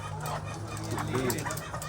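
Hens clucking softly nearby on a 15,000-hen layer egg farm, a few short calls over a low steady generator hum, with faint background murmur.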